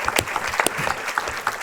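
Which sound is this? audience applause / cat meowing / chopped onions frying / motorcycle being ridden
audience applause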